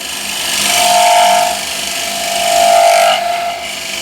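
A square end scraper is dragged across a wooden surface in two long, smooth strokes, giving a steady close-up rasping scrape with a slight tonal edge, rising and easing with each pass.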